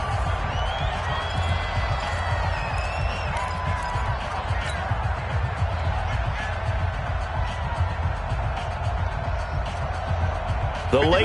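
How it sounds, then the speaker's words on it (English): A stadium crowd in a football video game keeps up a loud, continuous roar during a 2-point conversion attempt, with commentary talk over it. "Listen to this crowd now."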